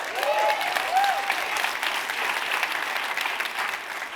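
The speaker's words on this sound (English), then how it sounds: "He deserves every bit of that applause and more" Audience applause for 83-year-old Marvin Dunn at a State of Black Philanthropy event, a dense, steady wash of clapping from a large crowd that holds for the whole stretch, with faint voices at the start.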